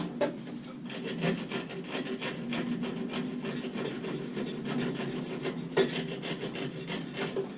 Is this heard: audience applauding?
no